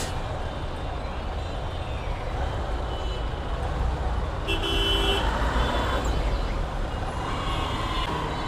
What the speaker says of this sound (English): It is a big traffic jam